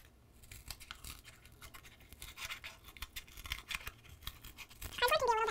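Paper being cut around a drawn circle with scissors for a whirligig craft, a run of close, irregular snips and scraping rustles with a short voice at the very end.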